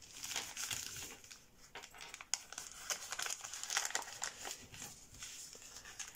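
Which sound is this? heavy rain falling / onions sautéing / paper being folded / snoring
paper being folded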